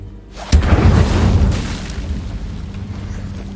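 A sudden fiery burst from the Incendio spell in Hogwarts Legacy, one loud booming whoosh that flares up and then slowly fades into a low roar.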